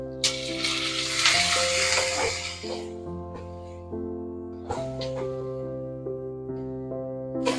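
Chopped tomatoes tipped into a pan of frying vermicelli upma, giving a strong hiss and sizzle that settles to a steady fry, with a musical background track playing throughout.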